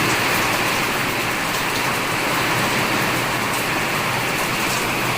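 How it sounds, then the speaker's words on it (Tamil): Heavy rain pours down in Pondicherry, a loud, unbroken roar of drops striking surfaces close by that holds steady throughout. "இன்றைக்கி பாண்டிச்சேரியில் நல்லா பயங்கரமான மழை பெய்யுது"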